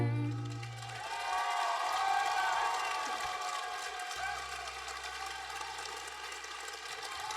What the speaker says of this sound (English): You're clapping so long for that.